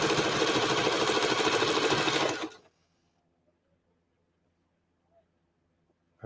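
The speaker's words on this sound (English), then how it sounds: "Make sure I'm not sewing the pants together." A sewing machine stitching a pair of pants runs in a fast, steady mechanical whir for about two and a half seconds, then stops abruptly, leaving near silence.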